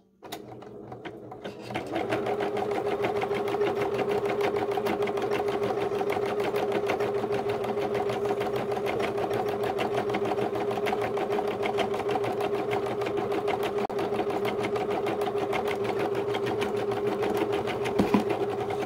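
A Babylock Espree EM1 embroidery machine stitches at a steady, fast, even hum after a brief quiet start, close and continuous for the rest of the clip, with a small clunk near the end.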